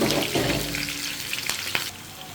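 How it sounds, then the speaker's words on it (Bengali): Chopped onion and green chillies fry in a pan with a steady, close sizzle, broken by a couple of sharp clinks from stirring near the end. "এই মরিচ পেঁয়াজটা আমি একটু ভেজে নেব মরিচের পেঁয়াজটা ভেজে নিচ্ছি"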